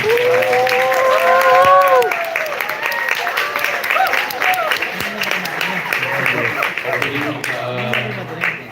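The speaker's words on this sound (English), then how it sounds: "why don't we give a big round of applause for Michael Greenspan?" University audience clapping for a New York Times guest, loud applause mixed with whoops and cheers, voices calling out over it from start to finish.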